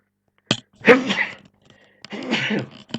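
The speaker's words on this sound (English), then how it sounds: "Even in my voiceovers I'm sneezing." Two sneezes from one person, each a sharp inhaled catch followed by a loud explosive burst, close to the microphone with quiet pauses between them.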